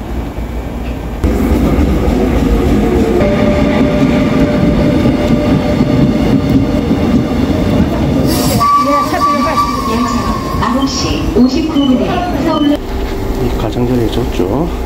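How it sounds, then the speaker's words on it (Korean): A train passes on the line heading toward Busan station, a loud sustained rumble and rattling of wagons lasting throughout, with a shrill squeal partway through and people talking beneath it. "기차네요."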